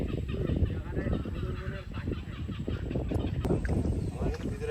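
Birds call repeatedly in the Sundarbans forest after a storm, honking goose-like cries layered over steady rustling background noise, with a voice speaking intermittently underneath.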